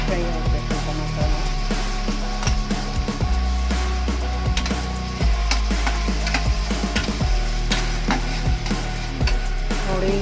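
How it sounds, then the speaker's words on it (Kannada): Tomatoes frying in a pan for paneer bhurji, a loud continuous sizzle broken by frequent scraping strokes and knocks of the spatula as they are stirred close up. "ನೋಡಿ, ಈಗ ಟೊಮಾಟೊ ಫ್ರೈ ಆಗ್ತಾ ಇದೆ."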